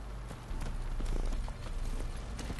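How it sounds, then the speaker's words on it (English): Horse hooves clip-clop at a steady trotting rhythm in Witcher 3, close and fairly loud over a constant low game ambience, with no talk. "Come here, horse."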